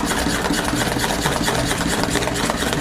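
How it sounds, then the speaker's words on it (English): A manual milk frother is pumped rapidly through cold almond milk, making a steady, close, rhythmic whirring and churning that runs without pause. "I'm going to use a manual milk frother this time"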